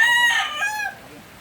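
A rooster crows with a rising, strained call among clucking chickens, loud and close, with the crow trailing off after about a second.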